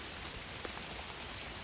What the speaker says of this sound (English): it's raining quite hard in here in the UK